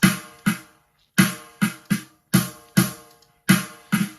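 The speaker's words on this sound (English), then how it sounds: "This gives it that trash can kind of snare sound." A punchy GarageBand drum pattern with a sharp, bright, trash-can-like snare hitting in bursts, each decaying quickly, with short silent gaps between phrases.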